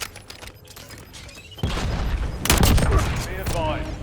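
Video-game gunfire rattles close and loud, with a dense burst of shots that swells after a quieter opening and peaks near the middle. Faint voices sit under the battle noise.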